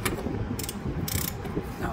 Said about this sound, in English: Brought your half inch 21 millimeter socket and half inch ratchet.